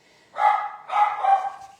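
A pet dog barks indoors at home, giving two or three close, loud yelps in quick succession with no talking.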